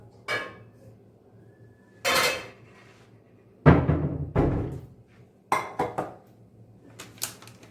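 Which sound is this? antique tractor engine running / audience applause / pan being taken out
pan being taken out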